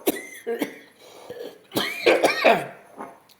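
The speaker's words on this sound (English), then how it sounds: "I was going to say bless you, but that's a cough." A few rough coughs and throat-clearing sounds, with a louder burst of harsh coughing near the end, close to the microphone.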